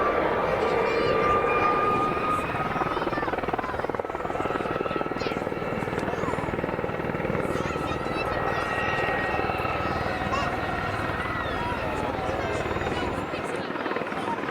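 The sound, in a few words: aircraft hovering at an air display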